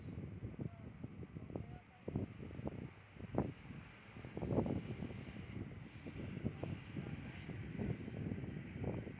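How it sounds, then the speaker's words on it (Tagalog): Gusty wind buffets a microphone with rough low rumbling bursts, uneven and loud, continuing throughout with no clear voices. "Lakas ng hangin guys."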